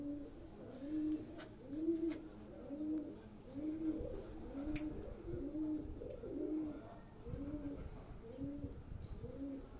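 Capped-breed pigeons, a variety with a cap-like crest on the head, coo in a steady run of repeated low, rolling calls, close and fairly loud, with a few faint chirps behind.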